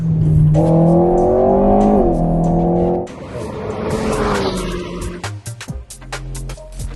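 An Alpine A110 sports car on a race track, its engine revving loudly and climbing through the gears, then easing off into a rougher, crackling lower note with sharp pops as it decelerates.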